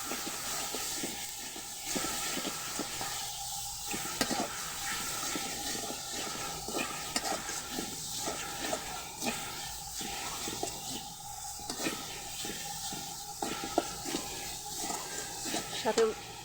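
Ginger garlic paste frying in a pan gives a soft, continuous hiss with faint intermittent clinks, fairly quiet, while a person talks over it.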